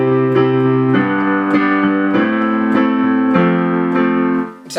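Block chords in root position sound on a piano in a worship style, struck one after another. Each change moves all the notes at once, giving clear, sustained, evenly paced chords that are loud and close, with no talking.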